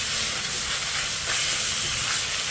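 Thai red curry stir-fried over raised heat until the liquid reduces: a steady, dense hiss and sizzle fills the whole moment at close range with no pauses, loud and unbroken.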